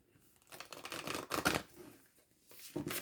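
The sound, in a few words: shuffling oracle cards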